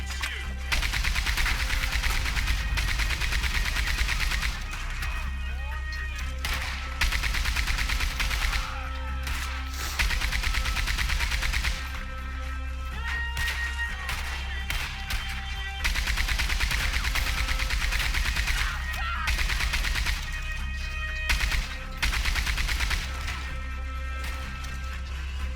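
A mounted gun in Red Dead Online fires in repeated heavy bursts over a steady low rumble, with pauses between volleys, moderately loud and close.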